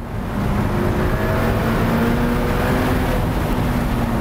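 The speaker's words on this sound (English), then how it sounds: "it's crazy that the sound is really dominated by the turbochargers" A Ferrari F8 Spider's 710 hp twin-turbocharged V8 drones steadily under load, a dense, loud rumble with a whooshing turbo character dominating over the exhaust, heard continuously from close by with no talk.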